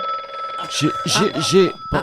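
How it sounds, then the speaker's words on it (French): Mobile phone ringtone on a French comedy radio sketch, a short melodic electronic ring of about three bright pulses, loud and close, with a voice speaking around it. "Pardonnez-moi, c'est mon portable. Oh, dis donc, la sonnerie"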